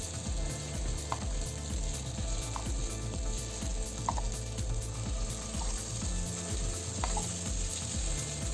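Jackfruit paddu batter, sweetened only by the fruit, cooks in a pan with a steady, soft sizzle and a low mechanical hum beneath, plus occasional faint clicks over about eight seconds, with no talking.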